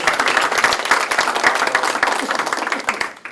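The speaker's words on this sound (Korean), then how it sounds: "박수 한번 부탁드립니다." Audience applause at a Democratic Party supreme council meeting in Seoul, dense rapid clapping from a large indoor crowd, loud and sustained before tapering off at the end.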